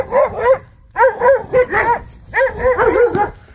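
Several dogs bark in a rural yard in bursts of loud, close yaps and woofs, with a few whimpering notes between the barks.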